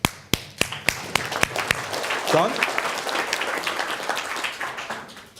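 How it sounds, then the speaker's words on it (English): A few sharp, loud individual claps open the moment, then a looser spread of applause from an audience at a personal branding talk, with a brief spoken word cutting in. "Round of applause."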